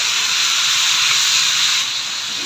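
Tomatoes sizzle in oil left over from frying fish in a pan, a steady, close, loud hiss of spattering oil that runs unbroken and eases slightly near the end.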